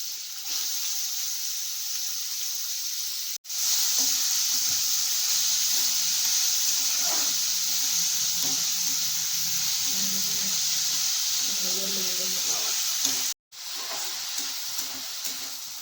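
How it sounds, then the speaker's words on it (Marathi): Onion frying in hot oil in a kadhai for a tribal wild-vegetable dish gives a steady, loud hiss and sizzle that runs almost throughout, broken by two short silent gaps, with faint low clatter beneath. "तेल तापलं आहे आता आपण कांदा टकवणार आहे कांदा चांगला परतून घ्या"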